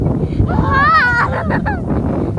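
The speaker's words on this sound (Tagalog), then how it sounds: "Ang sobrang hangin." Strong wind buffets the microphone during a bike ride, a steady broadband rush with brief excited voices calling out over it.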